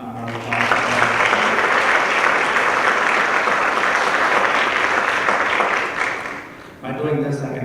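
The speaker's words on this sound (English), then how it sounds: "could you give Kelsey a great big round of applause?" A school audience at a State of the Schools event gives a big round of applause, dense sustained clapping for several seconds that swells, then tapers off, with voices briefly heard at the start and end.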